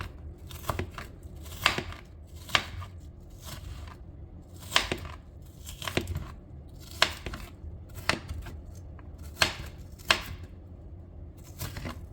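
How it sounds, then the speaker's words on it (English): A kitchen knife chops steadily through an onion on a cutting board, crisp irregular strikes in quick succession, close and clear with no talking. "So now I have one onion that I'm going to finely dice."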